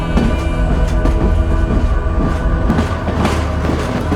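The world's longest train rolls through the sand of the Sahara Desert with a loud, continuous rumble and rattle of its wagons, steady throughout and with no voices.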